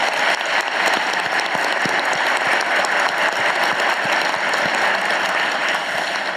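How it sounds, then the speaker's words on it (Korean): A large audience at a Chungbuk public event claps in sustained, dense applause, steady and loud throughout with no voices over it. "우리 박수 한번 보내드리세요"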